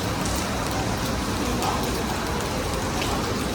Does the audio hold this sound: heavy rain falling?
yes